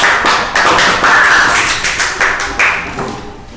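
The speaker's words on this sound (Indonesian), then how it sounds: "Beri tepuk tangan." Classroom clapping from students at a school teaching session, loud and close, with rhythmic claps in unison beating steadily for a few seconds before fading at the end.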